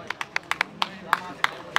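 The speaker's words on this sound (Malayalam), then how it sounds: "കൈയടിച്ച് പ്രോത്സാഹിപ്പിക്കുക" Scattered clapping from a crowd at a volleyball semi-final match, sharp individual claps spaced irregularly at moderate distance, with no speech.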